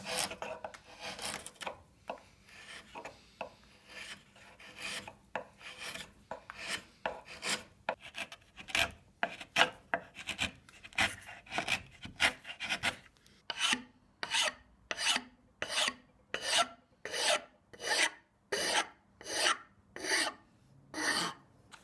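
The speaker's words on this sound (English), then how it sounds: "After the profiles were done, I could start carving. This mystery wood cuts incredibly well." A hand rasp works a piece of mystery wood while carving a butter knife, with rhythmic scraping strokes, irregular at first and then settling into an even back-and-forth cadence, close and crisp.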